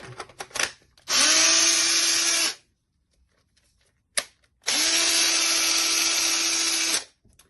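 A repaired brushless power tool runs in two sustained bursts of about one and a half and two and a half seconds, each spinning up to a steady high whine and winding down, with a short click between them and no talk.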